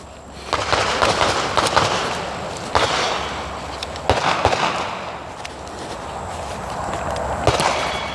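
Handgun shots at an outdoor shooting range arrive as several sharp reports spaced a second or two apart, each with a short echo tail, over steady outdoor background noise.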